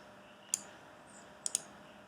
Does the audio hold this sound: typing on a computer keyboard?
yes